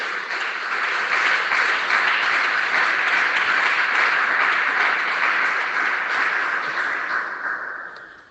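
A church congregation applauds, a thick continuous clapping that swells in within the first second, holds strongly for several seconds, then tapers away toward the end.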